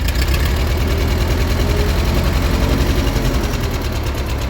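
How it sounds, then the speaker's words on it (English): A tractor engine runs steadily at idle, loud and close, with a constant low rumbling chug throughout and no voices. "for now we're going to fire up the tractor and see what happens"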